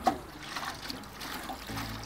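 Water drains and trickles out of the tank of a Karcher WD3 Premium wet-dry vacuum after car cleaning, a soft, continuous dribbling splash with no voices.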